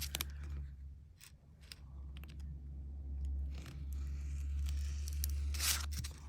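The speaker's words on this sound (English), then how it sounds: "I'm going to lift this now and just trim it from the back with my blade" A blade trims metal craft tape from the back, producing close, intermittent crisp tearing and scraping bursts against a low steady hum, with no speech.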